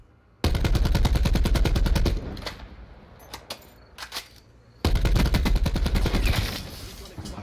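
Automatic gunfire in Call of Duty Black Ops 4 comes in two long, loud, rapid bursts, with a quieter stretch between them holding a few single shots and clatter.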